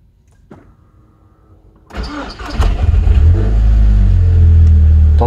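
A car engine cranks and catches after a short quiet lead-in, then settles into a loud, steady, rising idle with a possible squeak in the mix.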